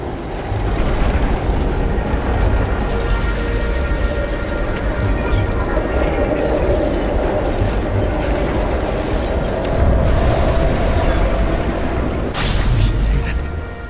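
An explosion in the detective video game Nobody Wants to Die, heard as a loud continuous deep rumble and roar throughout, with a sharper burst near the end.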